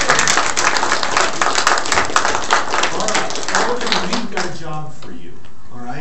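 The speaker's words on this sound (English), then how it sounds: "let's give Lori a round of applause" Applause rings out in a courtroom at an adoption finalization, a loud burst of close clapping for several seconds that thins and fades out, with people talking over and after it.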